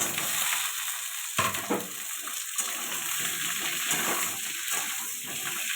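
Potato, onion and malabar spinach sauté in a pan, a loud hissing sizzle with a sharp burst near the start followed by stirring scrapes.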